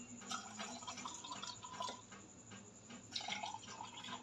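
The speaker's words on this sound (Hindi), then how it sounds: "अब हम इसे डालेंगे शरबत।" Falsa sharbat syrup is poured over ice in a glass, a faint close trickle with small drips and light clinks as the liquid runs and splashes.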